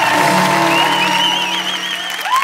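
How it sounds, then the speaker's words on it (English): A studio audience on the ice-skating show Dancing on Ice applauds after Rosemary and Mark's result, with loud, steady clapping and cheering mixed with music. "a big round of applause for Rosemary and Mark"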